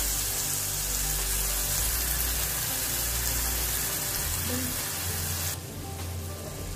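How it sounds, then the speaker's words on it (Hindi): A bread slice laid face-down into a hot pan over medium heat sizzles in a steady, close hiss, dropping slightly softer near the end. "अब ब्रेड को इस तरह उल्टी करके डालेंगे"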